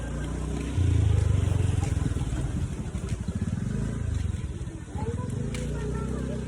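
A motorcycle passes along a windy road in Bulacan, its engine swelling to a loud, close rumble and then fading over several seconds amid steady wind noise.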